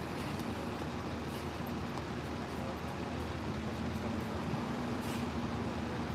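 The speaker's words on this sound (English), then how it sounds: "Man, you can let the bus go by." A bus rolls past at a distance in steady, low rumbling traffic noise, a faint continuous drone with a couple of brief hissing bursts near the end.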